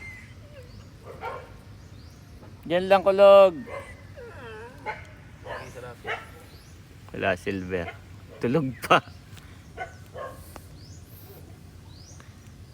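A dog barks in short, faint bursts in the distance near a riverside while people talk nearby.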